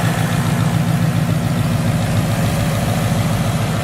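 Ford Mustang S550 idling on straight pipes with no mufflers, a steady, close, low rumbling drone with even loudness throughout and no voices.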